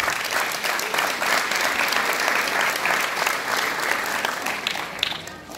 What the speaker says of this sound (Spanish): para quien pido fuertes aplausos también